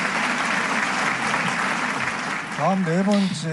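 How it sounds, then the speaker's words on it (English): An audience at a peace-rally event applauds distinguished heads of state, a steady roar of clapping that runs throughout, with a voice starting to speak over it near the end. "Let us give another round of applause to these distinguished heads of state from around the world."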